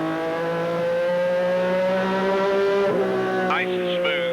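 Inside a driver's Tecumseh-sponsored ASA stock car at Jennerstown Speedway, a loud engine drones steadily at high revs, shifting pitch slightly as it runs through a corner, with a voice briefly audible over it.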